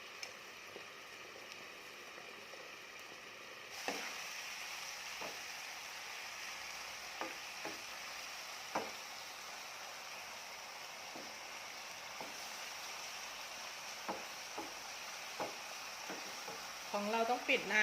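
Long eggplant stir-fried over high heat: a steady sizzling hiss that swells after the first few seconds, broken by scattered clicks of a utensil against the pan, with a brief burst of crackling at the end.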